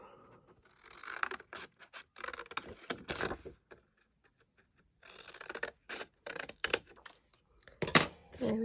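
Card for a greeting card is cut by hand with scissors in bursts of close, crisp snips and scratchy paper scraping, separated by short quiet gaps.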